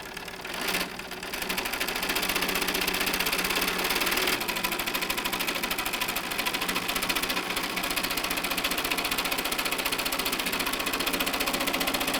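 A home sewing machine runs fast and steady for a long stretch, a close, loud, continuous rhythmic whirring and clatter with a brief hesitation near the start.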